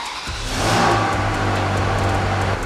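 A Ferrari 360 Spider engine runs after a repair, starting with a rising rev and then settling into a steady, loud, close-up drone with a smooth even hum.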